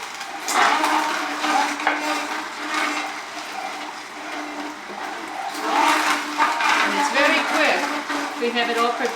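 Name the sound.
juicer juicing beets with lemon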